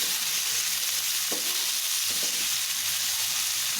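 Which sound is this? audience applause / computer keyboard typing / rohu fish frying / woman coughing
rohu fish frying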